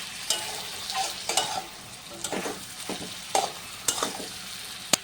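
Fried potatoes being stirred into a thick mutton masala in a pan, soft sizzling under scattered scraping and tapping strokes of a spatula, close by and fairly quiet, no one speaking.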